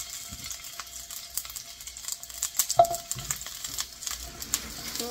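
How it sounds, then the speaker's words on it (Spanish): Onion sautés in oil in a pot as the base for a shrimp soup, giving a faint steady sizzle with scattered crackles and a few light utensil clicks, close and quiet with no talking. "Todo esto lo único que vamos a hacer es sofreírlo"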